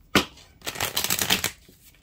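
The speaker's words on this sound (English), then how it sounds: "let me shuffle the other deck because I am using two decks" Two decks of cards are riffle-shuffled close up: one quick riffle burst, then a longer rippling flutter of cards, with no talking.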